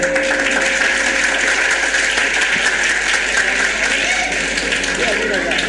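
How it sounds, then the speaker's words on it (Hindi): A school audience at a Laurel High School event applauds in a vote for a student's painting: a loud, continuous roar of many hands clapping that stays even throughout. "तालियां बजाइए।"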